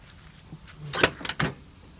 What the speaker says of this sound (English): that door opens with ease and doesn't sag